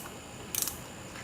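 A short metallic ratcheting burst of three or four quick clicks, close and fairly faint, from a ratchet tightening nuts onto the carburetor studs of a Honda ATC 185s.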